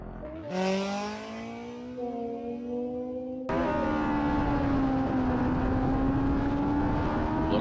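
A land speed race car at El Mirage dry lake revs up and roars, pitch climbing through gears, then a loud sustained roar as it speeds close past.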